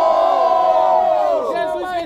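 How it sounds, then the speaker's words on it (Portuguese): Loud crowd at a Brazilian student rap battle in Guarulhos roars and cheers continuously, a dense wash of shouting voices that eases slightly toward the end. "Diferentemente, mas não menos importante, barulho pras rimas do meu mano Magno"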